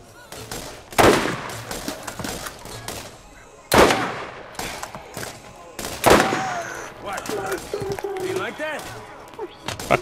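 Gunfire from the Borderlands video game, with sharp loud bursts recurring around every couple of seconds amid game sounds and a speaking voice throughout.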